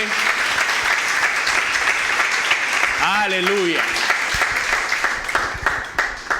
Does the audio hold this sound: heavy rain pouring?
no